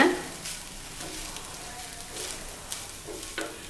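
Vegetable fried rice sizzles steadily in a hot pan as it is stirred, with soft scraping strokes breaking through a continuous frying hiss.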